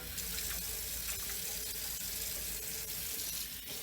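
A kitchen tap runs steadily as water rinses a metal sacrament tray at a sink, a continuous splashing hiss close to the listener, with no speech.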